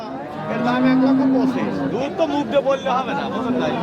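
A Jersey dairy cow at a busy cattle market gives a low moo near the start, while people talk close by throughout.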